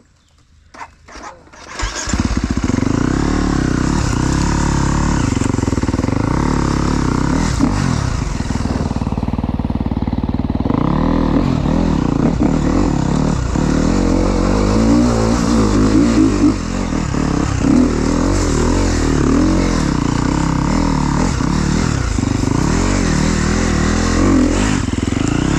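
Enduro motorcycle on a trail, its engine starting after a couple of seconds and then running loud and close with repeated revving and throttle changes throughout.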